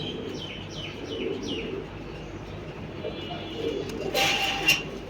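Pigeons coo inside a loft at a relative's house: a short series of soft, repeated coos near the start, then scattered chirps and a brief bright flurry near the end over low background noise.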